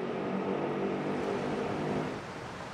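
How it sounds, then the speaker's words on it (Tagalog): Trucks crawl slowly through floodwater on Araneta Avenue in Quezon City during a night of heavy rain, producing a steady low engine drone that eases off slightly toward the end. "Nagbagal naman ang ilang truck na sumuong sa baha sa Araneta Avenue"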